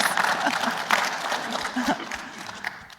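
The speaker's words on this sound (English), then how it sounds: "You can clap, by the way, because that was fantastic." An audience at the 2023 Humans to Mars Summit claps steadily in a dense, continuous wash of applause lasting a few seconds.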